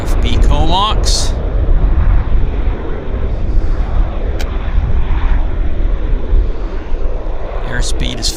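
An airplane landing and rolling out at Vancouver airport, a loud, steady broadband engine roar that holds through the whole stretch. A voice cuts in briefly near the start, where there is also a short tonal whine.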